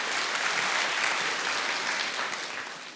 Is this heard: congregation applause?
yes